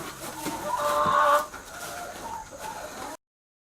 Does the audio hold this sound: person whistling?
no